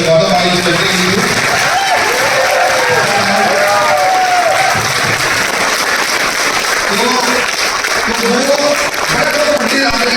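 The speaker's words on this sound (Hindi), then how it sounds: "मैं चाहूंगा एक बार जोरदार तालियां हमारे मैनेजिंग डायरेक्टर मिस्टर गौतम भाई से देंगे" A large audience applauds a managing director, Gautam bhai, during a trip event in Goa. The clapping is steady, dense and continuous, with crowd noise and voices mixed in throughout.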